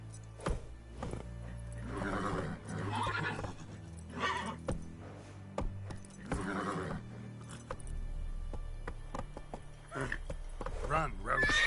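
Roach the horse from The Witcher 3 whinnies and gallops with steady hoof clops under game music, while a voice talks over the action.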